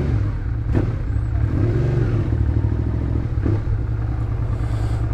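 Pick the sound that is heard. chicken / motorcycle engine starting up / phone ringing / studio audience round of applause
motorcycle engine starting up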